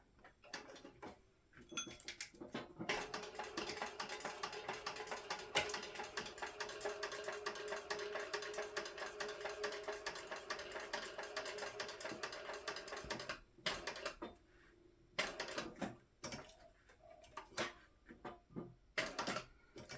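A sewing machine stitches the seam allowance on a crossbody bag flap, a fast, continuous mechanical ticking running for about ten seconds, then breaking into short stop-and-start bursts, close and fairly quiet.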